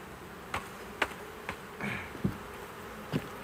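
Honey bees buzzing around a capped honey frame while being knocked off during a hive inspection and honey harvest, a steady low hum with several sharp knocks and taps against the wooden frame.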